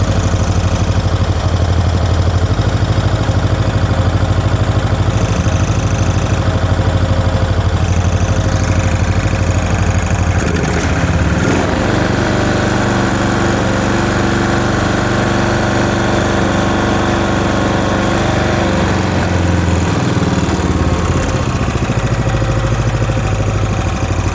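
A Briggs & Stratton 11 hp lawn mower engine, air filter removed, idles steadily and evenly, a continuous close rumble with no pauses or revving.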